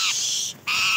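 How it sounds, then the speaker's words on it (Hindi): Parrots in a village give harsh, raspy squawks: one long call, a brief pause, then another loud squawk, close by. "तो गाइस तोते साउंड कर रहे हैं"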